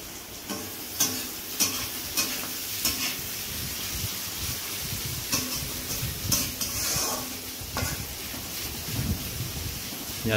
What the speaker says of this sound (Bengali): প্রথমে পেঁয়াজগুলোকে ভেজে নেওয়া হবে।